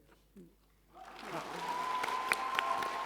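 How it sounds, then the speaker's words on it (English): Applause at a TwitchCon Dream SMP panel, starting quiet then swelling into a steady crowd of clapping that carries through to the end, with no one talking over it. "Well, I'm clapping myself."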